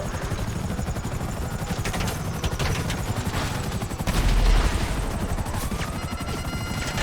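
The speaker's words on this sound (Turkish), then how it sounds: "Helikopterle uçuyorum." Helicopter flying in GTA 5, a steady rotor drone with rattling gunfire bursts and a heavy impact swell midway, loud and continuous, with no voices.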